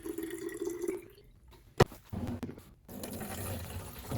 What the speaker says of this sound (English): we're just gonna pour it in here and then pour it in there